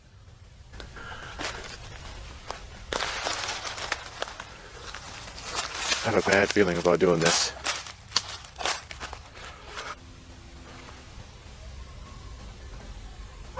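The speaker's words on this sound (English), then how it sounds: "Those sounded like footsteps." Footsteps in the woods at a campsite, a loud cluster of crunching steps in the middle against a quiet, noisy outdoor background, with someone speaking briefly before them.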